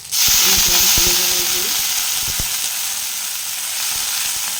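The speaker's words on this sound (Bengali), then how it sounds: "এটা ভেজে নেব একটু ভালো ভালো একটু জল দিয়ে দিচ্ছি" Water goes into a hot frying pan while cooking biuli dal, bursting into a loud, steady hiss and sizzle right away after a few quick clinks and a short tonal squeak.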